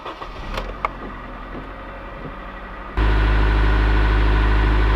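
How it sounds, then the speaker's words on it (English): A 2002–2005 Honda Civic Si engine cranks and catches partway through, settling into a loud, steady close idle after a few seconds of quiet interior rustling and clicks. "So let's just go ahead and start it on up, let it warm up"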